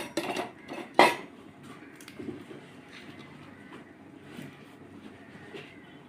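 Grated coconut roasting in a pan for a Kerala curry, with metal clinks and scraping of a spoon against the pan, one sharp knock early on, then quieter stirring, close up.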